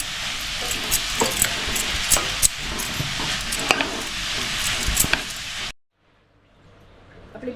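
A spoon stirs chopped beetroot and salt in a pan, scraping and clattering close up over a soft sizzle. The sound cuts to near silence near the end, and no one speaks.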